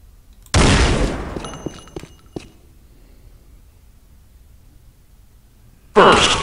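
A weapon fires in Unreal Tournament 99: a sharp loud blast with a decaying tail, a few quick follow-up cracks, then quiet until another loud burst near the end.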